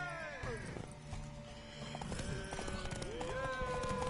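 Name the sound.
horse hooves clopping in video game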